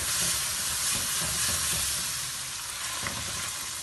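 Chicken fries in a pan with a loud, dense, continuous sizzling hiss that barely changes and is occasionally stirred.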